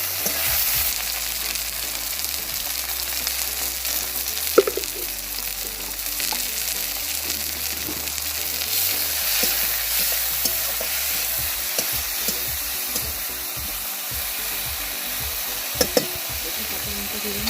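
Chopped tomatoes with a little salt fry in a hot pan over onions and spices, giving a continuous close sizzle broken by frequent spatula scrapes and stirring clatter, with no voices.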